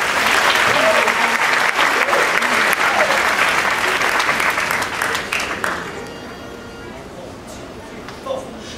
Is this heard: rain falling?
no